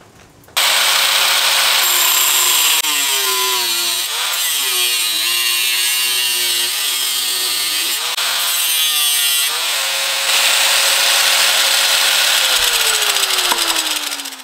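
Metal cake spatula from a dollar store being cut along a drawn line for a cigar box guitar build, a loud continuous grinding-sawing scrape with shifting ringing tones that runs the whole way, briefly easing before the blade cuts through near the end.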